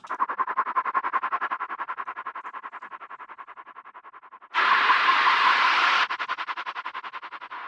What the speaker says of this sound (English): I'm also using here the autopan to create that stutter effect